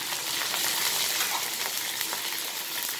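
Curry leaves and mustard seeds fry in hot oil for a Kerala-style elephant foot yam poriyal, giving a dense, loud, continuous sizzle with crackly bursts close by and no speech.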